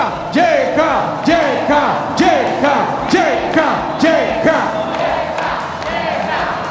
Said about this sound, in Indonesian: Semua boleh teriak JK.